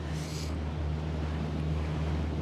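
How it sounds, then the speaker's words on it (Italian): A Solaris sailing yacht glides over calm sea near Portofino during a race, with a steady wash of water and wind rumbling under a low constant drone. "come vedete passa sull'acqua con, con estrema gentilezza provocando veramente zero onda"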